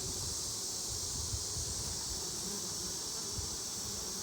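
A swarm of honeybees gathered in a ball without a queen in September hums with a steady, close, high-pitched buzz that holds evenly throughout, alongside low rustling and handling noise and no talking.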